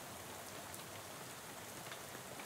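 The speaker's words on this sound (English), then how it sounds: "Oh, it's raining." Rain falls in the video game Shadows Over Loathing, a steady, quiet hiss of drops hitting surfaces with no voices over it.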